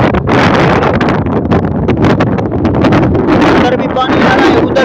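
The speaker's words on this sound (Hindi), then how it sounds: "देख इतनी तेज हवा आ चुकी है" Strong storm wind roars outdoors and buffets the microphone in loud, continuous gusts, with someone talking excitedly over the rushing noise.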